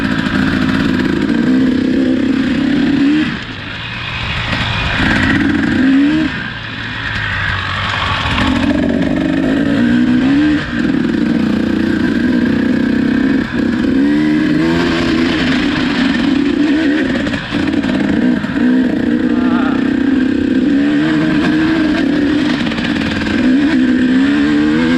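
A KTM two-stroke and a Honda CRF four-stroke dirt bike racing in a time trial through mud, a loud close engine note revving and shifting pitch steadily with brief dips, continuous and alone.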